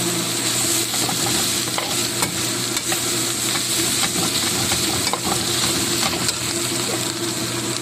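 Chicken meat for homemade shawarma frying in a pan, a loud, continuous close sizzle with crackling bursts and faint stirring scrapes throughout, no voices.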